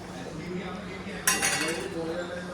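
Tandoori masala and food colour are mixed in a bowl with a spoon, giving a soft scraping and then a bright clink of metal against the bowl partway through.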